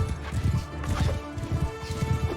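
Horse hooves in the video game Mount and Blade Bannerlord, a steady galloping clip-clop of repeated beats, close and prominent over the game's background noise.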